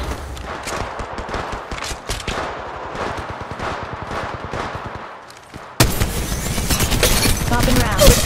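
Gunfire in the Apex Legends Mobile video game, with rapid bursts of automatic shots. Game voice lines come over them. A brief lull is followed by a louder, denser stretch of shooting.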